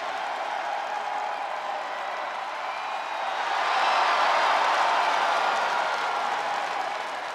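Crowd roaring and applauding in the wrestling video game WWE 2K25, a broad continuous arena wash that swells louder in the middle and then eases slightly, with no clear individual voices.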